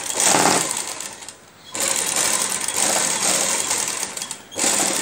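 Garment neck seams running under a tailor's sewing machine: steady, loud whirring stitching in two long bursts, broken by a short pause near the start and another brief stop toward the end.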